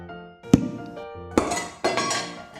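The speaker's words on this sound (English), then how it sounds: "Then I gave it a good squeeze, and the lid shot off." A sanded food can lid pops off under a squeeze: a sharp metallic clink, then two more tinny knocks and rattles from the loose lid, close and clear with no talking.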